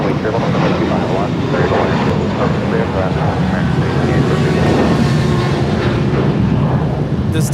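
An eight-year-old American Airlines A321 jet departs Los Angeles International Airport bound for Charlotte. A loud, continuous engine roar fills the whole stretch and stays fairly even, with wind buffeting the microphone.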